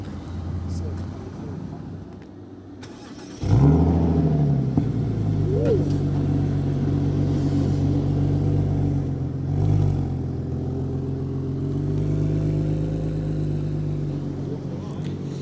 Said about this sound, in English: Rob's just moving the Z4 inside now